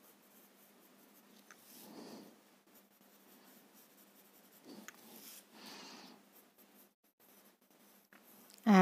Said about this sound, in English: now darken the droplet with your pencil